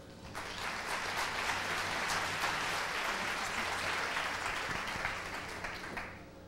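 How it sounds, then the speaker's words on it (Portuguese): A conference audience claps for a speaker, a dense, steady burst of applause lasting several seconds before tapering off. "Démosle un fuerte aplauso a Lilian Saúd."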